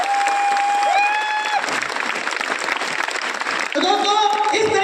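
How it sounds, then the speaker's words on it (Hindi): Hall audience applause for Shiv Kumar, busy clapping with a few cheers, framed by sustained musical tones at the start and end. "मैं चाहता हूं शिव कुमार सर के लिए एक बार जोरदार ताली।"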